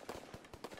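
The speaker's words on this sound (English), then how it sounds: "He shoot with a pistol." Several sharp pistol shots fired in a Call of Duty WW2 free-for-all match, quick bursts spaced a fraction of a second apart, fairly faint.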